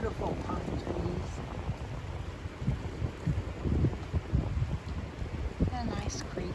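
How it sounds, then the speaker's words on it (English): Gusty wind buffeting the microphone beside a creek among pine trees in the Appalachian mountains, with low rumbling bursts that rise and fall unevenly and a faint background wash. "It's a little windy today"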